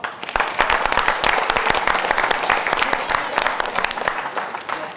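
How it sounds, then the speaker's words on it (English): A small group claps in steady applause for several seconds at a taser demonstration, sharp hand claps close by with some voices murmuring underneath. "Let's all give him a round of applause."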